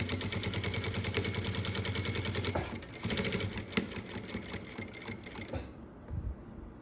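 A sewing machine stitches a cosmetics pouch, running in a steady close rhythmic chatter with a brief reversal for backstitching before slowing and stopping near the end.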